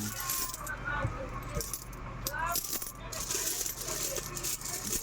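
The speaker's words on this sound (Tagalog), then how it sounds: "buksan na natin yung ating alkansya" Coins spill out of an opened piggy bank, a dense metallic jingle and clatter of small change tumbling and settling, close and continuous.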